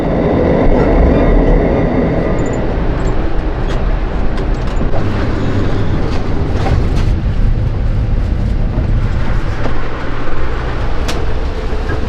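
An Amtrak passenger train rumbles loudly and continuously from close by, a dense steady roar of wheels and rail noise with faint rhythmic clatter throughout.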